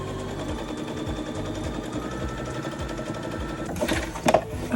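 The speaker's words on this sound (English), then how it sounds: "I'm going to sew this in place by sewing a seam from this point over here and down here." A sewing machine stitches a seam on a denim dress, a continuous close, steady mechanical whir with fast needle rhythm, ending in a few knocks and handling sounds.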